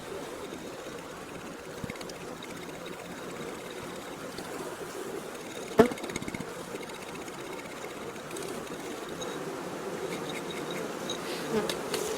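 Honey bees in a Carpathian hive buzz in a dense, continuous hum, close and steady, with a brief knock partway through and no voices.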